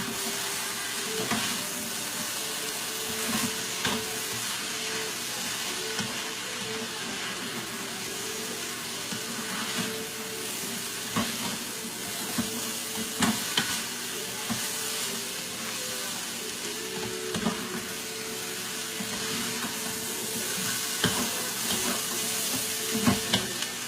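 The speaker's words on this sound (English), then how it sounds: "Mix it real good before we add the water." Continuous sizzling and frying with repeated scraping and stirring of a spoon in a pan as spices are mixed into meat for carne guisada, steady and close.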